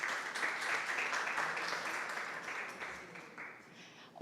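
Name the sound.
audience applause for the SATC alumni association founders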